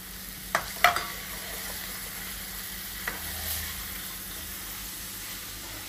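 Tomato being stirred into a frying mixture in a pan while making nalleru pachadi, with a continuous sizzle and a few sharp utensil clinks near the start.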